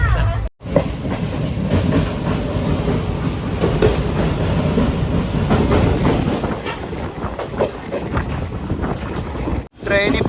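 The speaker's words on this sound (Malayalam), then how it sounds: "ട്രെയിൻ ഇപ്പോൾ കുമാർഘട്ട് സ്റ്റേഷനിലേക്ക് എത്തിക്കൊണ്ടിരിക്കുകയാണ്" The Silchar to Agartala Express rolls into Kumarghat station with a loud, continuous rumble and rhythmic clatter of wheels on rails, plus some wind buffeting, sustained for several seconds before a brief cut.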